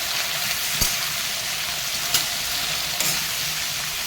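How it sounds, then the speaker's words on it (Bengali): Ridge gourd frying in hot oil, a dense, even sizzle that carries on without a break, with a few sharp clicks from the pan or utensil and no talking. "এবার আমি ভাজতে যাব আমার তেল গরমই হয়ে গেছে চিচিংয়েটা দিয়ে দেবো"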